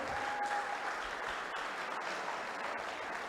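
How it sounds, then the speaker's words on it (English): Sustained applause from an audience at a youth cricket tournament media launch, steady and dense clapping holding at an even level throughout with no break. "give them a round of applause"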